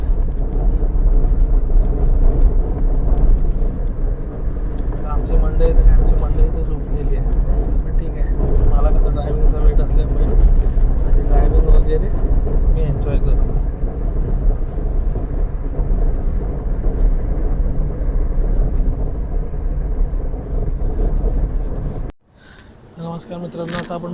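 Steady low road rumble of a car driving on the Konkan coastal road from Mumbai to Diveagar, a continuous engine and tire drone that cuts off abruptly near the end.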